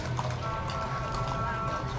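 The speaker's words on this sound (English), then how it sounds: "Lots of horses this year." Horses clip-clop through an evening Christmas parade in Berea, their hooves steady beneath a dense crowd murmur and nearby voices, with a constant low rumble throughout.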